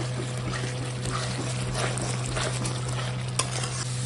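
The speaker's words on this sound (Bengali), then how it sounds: "মশলাটা সুন্দর করে কষানো হয়ে গেছে, আর একটু কষবে" Spice paste is stir-fried in oil for a Bengali katla fish curry, giving a continuous sizzle with scraping stirs and a steady low hum underneath, plus a sharp clink near the end.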